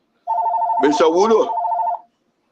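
A phone rings during a live radio broadcast, one steady electronic tone lasting under two seconds, loud and close, with someone speaking briefly over it.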